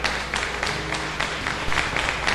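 A church congregation applauds in a steady, dense wash of clapping that fills the whole moment without a break.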